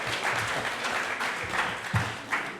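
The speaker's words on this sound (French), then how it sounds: "On l'applaudit, on l'accueille chaleureusement" A conference audience at a colloquium round table claps to welcome a speaker, a moderate, continuous patter of applause with a few louder thumps underneath.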